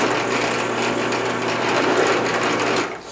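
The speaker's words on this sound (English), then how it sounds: "flip on your drill press, and drill a hole." A drill press bores a hole in a piece of wood with a steady, close mechanical whir and grind that holds evenly before tapering off at the end.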